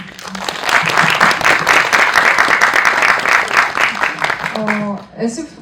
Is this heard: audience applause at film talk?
yes